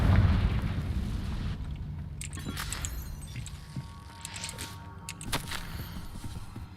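Fiery Confringo spell blasts in a wizarding video game, a loud booming burst at the start followed by rumbling and several sharper crackling hits, with no talk.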